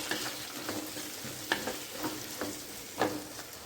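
A vegetable curry of green onions, peas and potatoes is stirred with salt in a pan, soft sizzling broken by regular scraping strokes about every half second, close and fairly quiet, with no talking.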